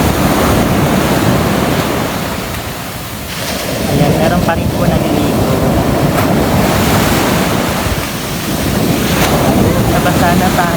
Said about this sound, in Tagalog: Pero yung dagat po, ayan lakas po ng alon.